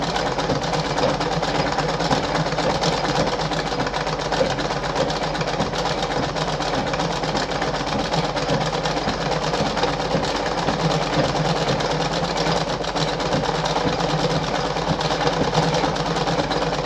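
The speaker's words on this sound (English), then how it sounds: "So I'm going to sew through right now, and you see. See the machine going back and forth." A Singer model 5107 sewing machine stitches through fabric on an overlock stitch, a steady, close mechanical whirr that runs without pause.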